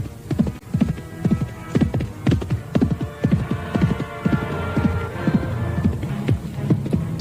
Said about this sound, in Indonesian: mereka melihat seekor kuda putih melesat dengan cepat.